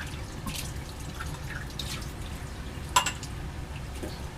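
Tap water running and dripping in a sink while lab glassware is rinsed, a soft continuous trickle with scattered splashes and one brief clink.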